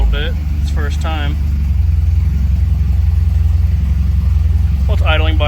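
A 1992 Volvo 240 engine idles steadily with a low, even rumble, recorded nearby, while someone talks briefly at the start and again at the end.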